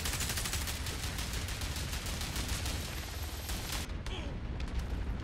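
Gunfire in the video game Warface crackles continuously in a PvE match, dense rapid bursts of shooting up close, with a sharp drop near the end.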